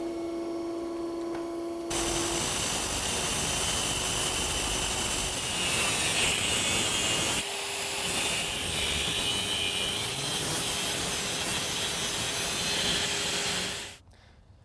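A power tool cuts through an electric motor shaft for a dual-motor EV drivetrain, producing a loud, steady high-pitched grinding whine that runs continuously for about twelve seconds before stopping abruptly.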